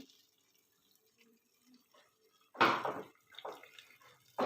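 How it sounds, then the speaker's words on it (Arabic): Boiling water poured onto cooked fava beans and lentils with tomato, onion and salted lemon, a quiet pouring splash in a few short bursts after near silence. "هننزل عليه بعد كده بالمية المغلية بتاعتنا"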